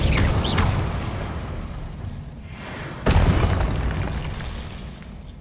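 Magical spell explosions from the video game Hogwarts Legacy: two loud booming blasts, the second striking sharply mid-way, each followed by a long rumbling decay.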